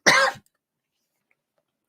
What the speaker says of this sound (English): I'm coughing more during this session than I have in a while.